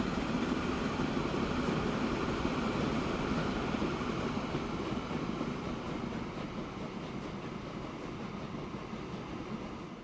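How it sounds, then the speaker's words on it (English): Trains run along a rail line in the video game Transport Fever 2, a continuous rumbling roll with faint clatter that stays steady and slowly eases in loudness. "Here are 2 workhorses running up and down the same train line"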